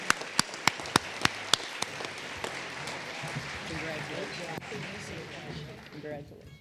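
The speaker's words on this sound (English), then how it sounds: "let them stand and get a round of applause" Audience at an awards ceremony breaking into applause for parents as they stand, starting with a few sharp, distinct claps that quickly swell into a steady, full round of clapping from the crowd.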